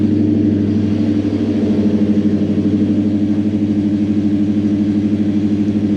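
A Toyota Celsior / Lexus LS400 engine idling with an idle fault, a steady low hum with a slight rhythmic pulsing, heard close and loud throughout without talk.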